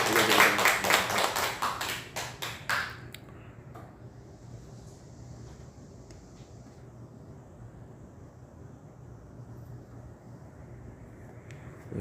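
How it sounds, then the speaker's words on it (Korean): A church congregation claps after a Wednesday worship service, with loud, brisk applause for roughly three seconds that quickly fades to a quiet, hushed room tone. "하나님께 영광의 박수 올려드리겠습니다."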